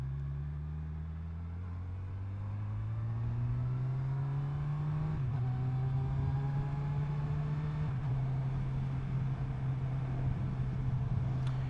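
Motorcycle with a quick shifter accelerating up a hill on a country lane, its engine note climbing steadily with brief dips at each fast gear change, loud and close throughout.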